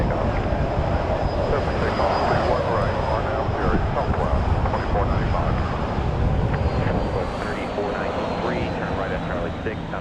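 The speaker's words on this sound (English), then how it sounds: "We have a Southwest flight going out, just about to go out, over here on our side of the field." A Southwest jet airliner takes off at Dallas Love Field, a loud, close, continuous engine roar with a high whine, easing slightly toward the end.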